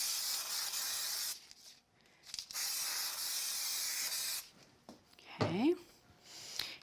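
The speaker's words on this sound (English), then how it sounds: "I think the easiest way to do this is to add some spray glue to the back of this." Spray glue hissing onto a card backing, with a long steady hiss for over a second, short bursts after it and another long spray, followed by a brief rustle of handling.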